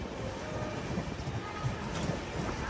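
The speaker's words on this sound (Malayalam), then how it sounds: "നെല്ലൂർ റെയിൽവേ സ്റ്റേഷനിലേക്ക് നമ്മുടെ ട്രെയിൻ ഇതാ എത്തിച്ചേർന്നിരിക്കുകയാണ്" Kerala Express rumbles into Nellore railway station, a steady low rolling of wheels and carriages with faint clatter, moderately loud and continuous, heard from inside the train.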